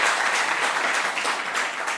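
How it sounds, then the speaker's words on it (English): Audience clapping at a school quiz competition, loud, close and continuous with a steady patter of many hands. "Round of applause for them, please."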